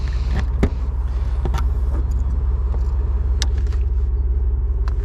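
A 1993 Cadillac Allante engine idles steadily nearby with a smooth, even rumble, joined by a few light clicks and rattles.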